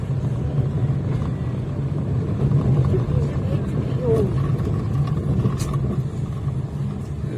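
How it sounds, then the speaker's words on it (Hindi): A car rolls into the parking lot at Birsa Munda Airport in Ranchi, its steady engine rumble and road noise holding level and close throughout, with talk over it. "पार्किंग में गाड़ी पहुंच रही है"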